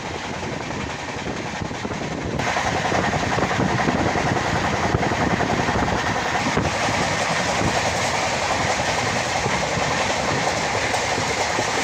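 A Jogbani–Siliguri express train runs nonstop at high speed, making a loud, steady rumble of wheels and carriages with continuous rail clatter throughout and no voices.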